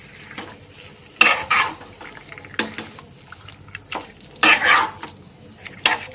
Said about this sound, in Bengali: এবার এটাকে ভালো করে ওপর নিচ করে কষিয়ে নিতে হবে মশলাটার সাথে